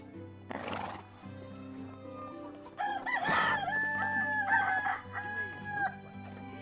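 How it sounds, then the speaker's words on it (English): Farmyard animals from the medieval life-sim game Medieval Dynasty: a horse whinnies, hooves clip-clop and a rooster crows amid clucking chickens, all fairly close, layered over one another for several seconds with no speech. "Oh my gosh, these chickens."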